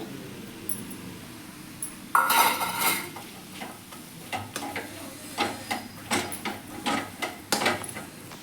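Fenugreek greens gravy being stirred in a pan, with earlier-fried greens and oil mixed in; repeated soft scraping strokes and light sizzle recur close by in an irregular rhythm, with no talking.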